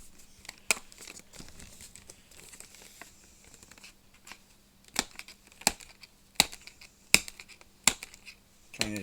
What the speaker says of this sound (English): Hang on, I'm gonna get the tape off